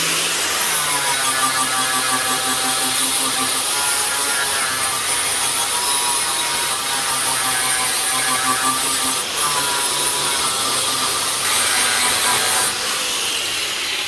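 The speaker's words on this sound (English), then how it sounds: "So I just took the my grinder with the flat wheel and just ground the surface basically" Flat-wheel grinder worked against a rusty metal surface to bring it back to bright bare steel, giving a continuous loud abrasive whine with a rough, gritty texture that holds steady and close for the whole stretch.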